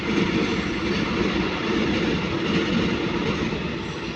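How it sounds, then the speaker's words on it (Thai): A train rumbles steadily past close by, its heavy, continuous roar filling the whole stretch. "รถไฟครับ"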